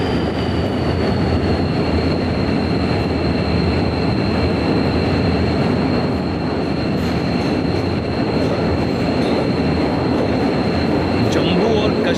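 A passenger train runs through tunnel number 35 on the Konkan Railway route, a loud, steady, enclosed roar of wheels and carriages with faint high squeal tones throughout, and a voice speaks over it.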